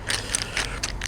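A torque wrench ratchets as it tightens a bolt on a Harley-Davidson Softail Slim Springer, giving a quick run of close, crisp clicks for about a second.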